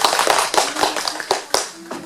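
A congregation claps during an Easter Sunday church service, giving a short burst of scattered, lively applause close by.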